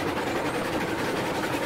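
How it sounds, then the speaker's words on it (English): A train runs along the tracks in the Railroads Online video game, giving a steady, close, continuous rumble with no talking. "you're driving your train down the tracks"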